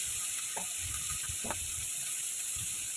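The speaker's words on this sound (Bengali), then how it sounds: "এবার আস্তে আস্তে করে একটা একটা করে সব দিচ্ছি। হ্যাঁ, দেখো এবার এটা হালকা ফ্রাই হবে।" Giant prawns fry lightly in a pan with a steady, gentle sizzle, broken by a couple of brief clinks as they are added one at a time.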